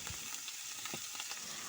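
Ayala mackerel frying in hot oil in a pan, giving a steady close sizzle with small crackles and light stirring sounds, no talking.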